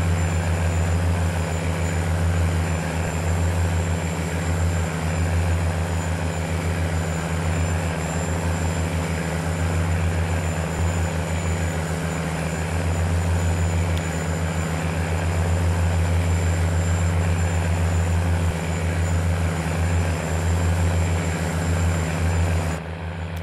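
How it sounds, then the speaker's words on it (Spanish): A heavy tractor engine drones steadily and loudly while plowing a field, a low throbbing rumble with a faint high whine above it. "Escuchen el sonido de este tractor."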